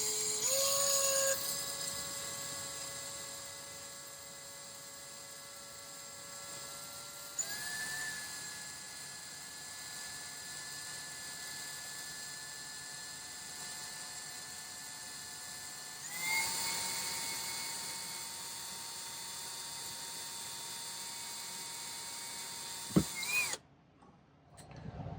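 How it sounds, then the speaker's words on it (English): A Ryobi power drill runs with a steady high whine for about 25 seconds, with its pitch shifting at a few points before it cuts off near the end. "So you won't have to watch me drill with my Ryobi drill anymore."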